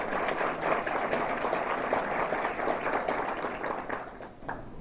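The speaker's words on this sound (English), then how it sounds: "Please give them a big round of applause." Audience at a higher education event applauds its sponsors, a steady broad wash of many hands clapping at moderate level, tapering slightly near the end.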